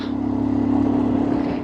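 A motorcycle engine struggles uphill in the cold on the road to Muktinath, Nepal, droning steadily at low revs, a constant near hum with a slight labouring pulse and no voices.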